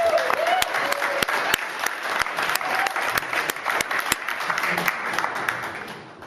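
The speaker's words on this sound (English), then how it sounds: "Let's give Josh another round of applause" A holiday cabaret audience applauds a performer named Josh, a dense wash of clapping with distinct sharp claps popping out, slowly tapering toward the end.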